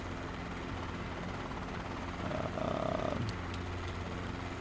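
A helicopter taking off with a tailwind, heard from inside as a steady low rotor and engine drone that swells slightly as it lifts, with a couple of faint high beeps near the end.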